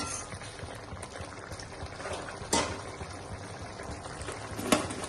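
Veg manchurian sauce thickened with cornflour slurry and water bubbles in a pan, a soft low simmer with two brief louder clatters.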